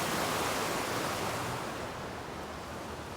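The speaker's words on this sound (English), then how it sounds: "after I get past this raging water, it's going to be loud" Raging water gives a loud, steady broadband roar like rushing rapids or surf, close and continuous throughout, easing slightly toward the end, with no voices.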